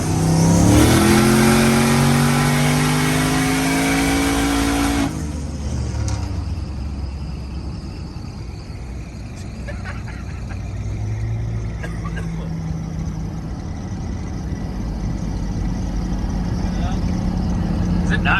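A turbocharged LS engine in a square-body truck revving hard, a loud rising roar with climbing pitch sweeps in the first seconds, then a sustained rumbling drone at lower intensity; people talk over the engine.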